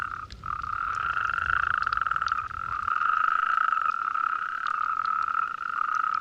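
A chorus of male Spanish toads calling in a pool, a steady overlapping trill with occasional higher calls, close and continuous with no other sounds.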